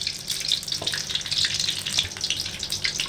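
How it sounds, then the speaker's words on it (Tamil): Steady hiss of hot oil with small seeds crackling and popping throughout, close and continuous, with no voices. "கடுகு நல்லா பொரிக்கும்."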